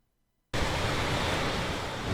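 Ocean surf at the spouting horn on the Oregon coast, a sudden loud rush of crashing water that starts abruptly after a moment of silence and roars on steadily, close and broadband.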